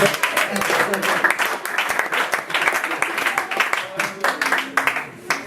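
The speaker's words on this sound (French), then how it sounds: "On va applaudir Yoann" Applause from a congregation at a Father's Day church celebration, a loose patter of clapping running throughout, mixed with voices and crowd noise.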